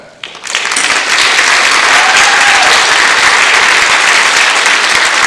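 A concert audience applauds band musicians after a performance, sustained, dense clapping that swells in quickly and stays loud and steady with a faint crowd murmur.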